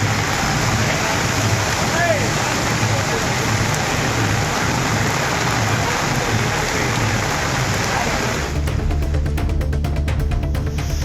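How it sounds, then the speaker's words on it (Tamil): Heavy rain in Tamil Nadu during Cyclone Montha pours down in a loud, dense, steady hiss that runs without a break, the texture shifting slightly toward the end. "பெய்த கனமழையால் சாலைகளில் மழைநீர் தேங்கியது"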